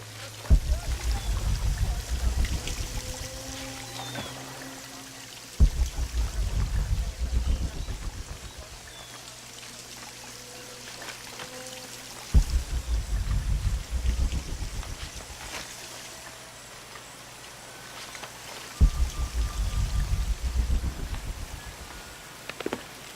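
Canal water flowing through an arid village in the game Shadow of the Tomb Raider, a steady rushing wash with low swells that return every few seconds, fairly soft and continuous.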